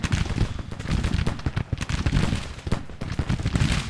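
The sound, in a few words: troops firing rifles in the video game Grand Tactician: The Civil War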